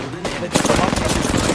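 Gunfire in the battle royale shooter Apex Legends, a sudden burst of rapid automatic shots starting after a quiet moment and continuing loud and close.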